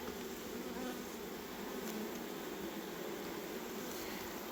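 Honey bees shaken out of a hive fill the air with a dense, steady buzzing hum of many wings, continuous and close, with no voices.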